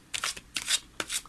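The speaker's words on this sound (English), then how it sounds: "I've already shuffled them a lot" A deck of tarot cards is shuffled by hand, close up: three quick papery riffles in a steady rhythm, with no talking.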